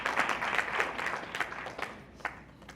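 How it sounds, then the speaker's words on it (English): An audience at a panel discussion on holistic living applauds the panel: a full burst of clapping that gradually thins and fades, with no voices. "let's give a round of applause to our wonderful panel"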